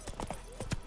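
Geralt's horse Roach from The Witcher 3 trots in a brief burst of clip-clop hoofbeats, several quick thuds with one heavier step near the end, set against a faint steady game ambience.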